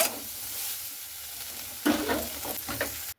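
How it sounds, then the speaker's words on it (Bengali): Soya chunks sizzle steadily in hot oil in a pan, with a spatula stirring and scraping in a few close, loud strokes near the end. "আমি এইভাবে কিন্তু ভেজে নিচ্ছি"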